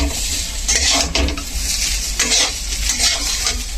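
Chopped neem leaves and eggplant fry in a pan with a loud, steady sizzle. A spatula scrapes and stirs the food close up at an uneven rhythm.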